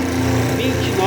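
An electric drill spinning a magneto ignition at speed, a steady close motor whine with a strong low tonal hum, lasting about a second under some talk.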